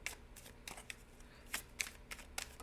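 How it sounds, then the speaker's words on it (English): A deck of tarot cards being shuffled and drawn, giving quiet, close riffling and flicking bursts at an irregular rhythm with soft gaps between them. "I'm going to get 3 cards out of this deck"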